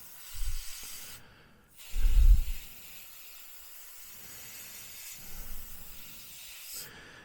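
An airbrush sprays paint onto the cockpit of a 1/35 Border Model Bf109 G6 kit in short, soft hissing bursts separated by quiet pauses.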